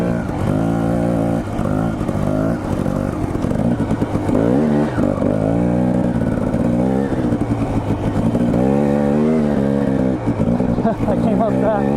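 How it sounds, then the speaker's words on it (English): A dirt bike ploughs through snow about three feet deep, its engine droning and revving continuously up and down, loud and close, while a rider talks over it. "Currently I'm riding in the snow that's probably 3 feet deep."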